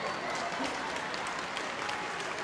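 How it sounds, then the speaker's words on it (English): Audience applause at a Good Citizen Dog Scheme display at Crufts 2016, a dense, even burst of clapping from a crowd, heard at a moderate distance. "Okay, so give them a big round of applause."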